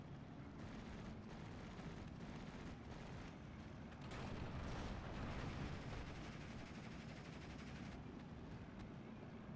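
Mortar and artillery fire in a tank battle video game, a dense rumbling barrage of booms and blasts rolling continuously, with a heavier surge of impacts midway through.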